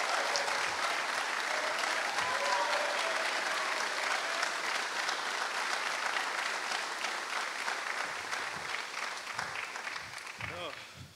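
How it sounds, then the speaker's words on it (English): Audience applause at a college football signing day show, a steady round of clapping that slowly thins toward the end, with a voice starting up over it at the close. "Let's give him a round of applause."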